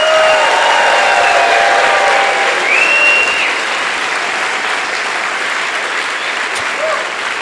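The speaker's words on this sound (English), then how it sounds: "I'd like all of us to give them a massive round of applause so they can hear us in" A large crowd at a pre-race meeting for a trail ultramarathon claps in sustained, loud applause that tapers slightly toward the end, with a faint voice or two underneath.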